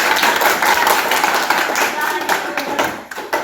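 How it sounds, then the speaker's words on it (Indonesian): Audience clapping at a classroom demonstration fills the whole stretch as a dense, steady patter of many hands, fairly close and loud, with faint voices mixed in. "Ya, kita beri tepuk tangan dulu."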